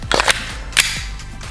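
Elite Force licensed airsoft Glock 19 dry-fired with the slide catch held down, giving two sharp, close plastic snaps of the slide cycling in quick succession, followed by a third fainter click.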